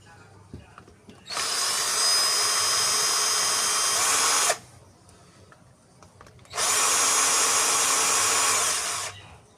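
A power tool whirs loudly in two sustained bursts of about three seconds each, with quiet gaps between, as it removes the bolts from the gearbox of a 13 mm drill.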